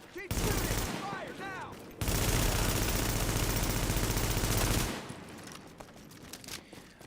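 Video-game gunfire erupts in a dense, loud fusillade, rapid automatic bursts running almost continuously for several seconds, then tapering into scattered shots.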